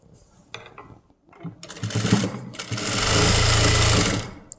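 A sewing machine stitches a folded edge on a kids' crop top: after a few short bursts it runs into a loud, steady close-up whir that holds for over a second before stopping.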